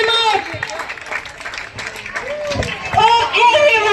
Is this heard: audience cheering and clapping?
yes